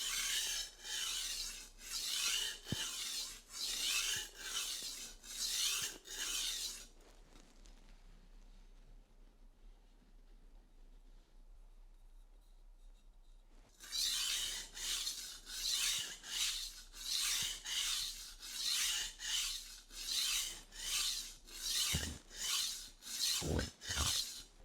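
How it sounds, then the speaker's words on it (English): A blunt Wusthof Classic Ikon chef's knife is drawn across a coarse 220 grit waterstone in rhythmic, evenly spaced gritty scraping strokes, close and clear. The strokes pause for several seconds midway, then resume at a steady pace. "Because it's so blunt, we'll start with a coarse 220 grit waterstone."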